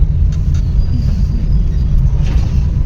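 Steady low engine and road rumble from inside a car driving in Kolkata, continuous and fairly loud, with a few faint rattles and clicks over the top.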